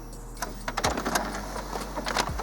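An Epson Expression Home XP435 inkjet printer runs a nozzle check page, giving quiet mechanical whirs, soft clicks and two short motor sweeps from close by over a steady low hum, with no talking.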